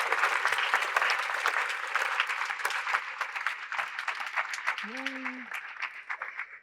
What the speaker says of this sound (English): Please, everybody, let's give him one more round of applause, please.